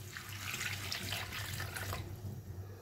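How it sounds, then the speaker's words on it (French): Water runs steadily from a tap onto bissap hibiscus flowers for rinsing, a continuous close splashing and gurgling that eases off near the end, with no talking. "Comme ça, j'ajoute de l'eau."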